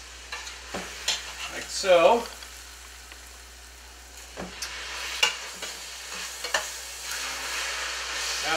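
Vegetables frying in a pan as they are stirred, with scraping strokes and soft sizzle spread through the clip, a louder burst of stirring early on and a brief spoken word.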